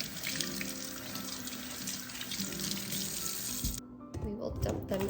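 Cherry tomatoes rinsed under a running kitchen tap, a steady close water rush that stops briefly near the end before resuming with splashing.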